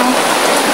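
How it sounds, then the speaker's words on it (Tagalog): Heavy rain pours steadily on a rural farm, a dense, continuous hiss close by and loud throughout, with no voices. "Ang lakas ng ulan."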